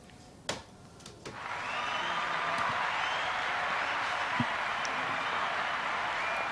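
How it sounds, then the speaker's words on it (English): A large crowd at a professional bowls World Singles semi-final erupts into sustained cheering and applause after a sharp knock, the roar swelling quickly and holding loud and steady. "As you can hear, the big crowd here at Nine Eye goes wild"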